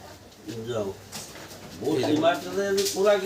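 A Beldanga tumbler pigeon from Murshidabad cooing close by in a few soft, rolling bursts, with someone talking over and between the calls.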